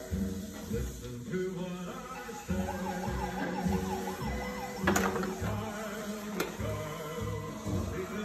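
A small electronic siren wails in a rapid up-and-down pattern close by, thin and toy-like, with clicks and rustling underneath.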